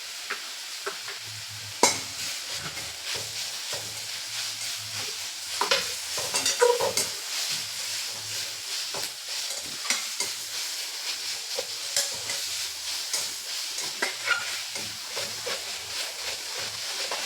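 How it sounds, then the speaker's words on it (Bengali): Moringa leaves fry in hot oil in a pan with a steady, soft sizzle, broken by frequent scraping strokes and taps of a spatula as they are stirred, close and moderately loud. "সজনে পাতাটা ভাজা হয়ে গেছে"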